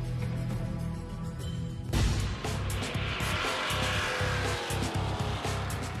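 Cars driving on a racetrack, engines roaring and passing close with loud broadband rushing noise after a sudden rise partway through, over a steady low rumble.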